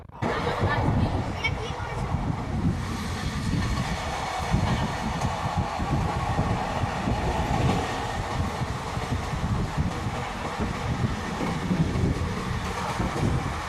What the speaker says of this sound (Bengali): আমাদের ট্রেন এসে পৌঁছালো আলুয়াবাড়ি রোড জংশন